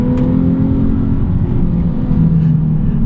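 A Nissan 370Z Nismo on worn tires hums loud and steady as it accelerates, a constant engine drone with faint rising whine and no voices.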